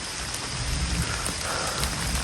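Steady, heavy rain falls in a forest, a continuous close hiss and patter of drops on the surroundings with no voices.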